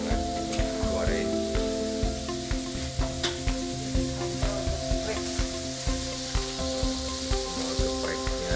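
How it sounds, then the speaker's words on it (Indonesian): Chicken for ayam geprek sizzles loudly and steadily as it fries in oil at a food stall, with rhythmic stirring clinks and some background voices. "Itu hasil olahan yang lagi goreng."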